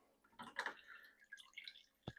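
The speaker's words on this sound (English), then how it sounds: "once you get to the end of it, it's really going to slow down with the dripping" Liquid drips from a bag of brewing grain for a brown lager, a few soft irregular drips and trickles close by, fairly quiet, with no talking.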